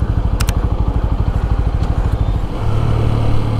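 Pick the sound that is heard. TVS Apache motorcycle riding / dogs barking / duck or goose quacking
TVS Apache motorcycle riding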